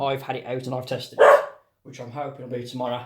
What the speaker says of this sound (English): That's the dog, someone's walked past the house.